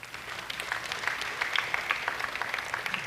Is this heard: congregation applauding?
yes